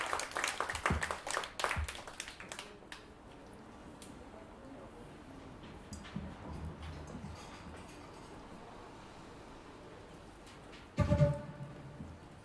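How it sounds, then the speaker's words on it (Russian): Scattered clapping from an audience at a harp and jazz concert bursts out at the start and fades within a few seconds, with a brief loud flurry again near the end. "Ваши аплодисменты."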